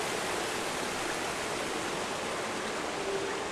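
Flowing river water in the video game Fe, a steady broadband rush with no breaks, close and even in level throughout, with no voices over it.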